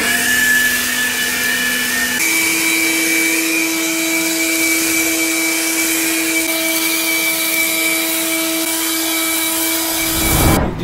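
A leaf blower drones loudly and continuously inside a library, its steady whine shifting pitch once early on, then cutting off abruptly at the end.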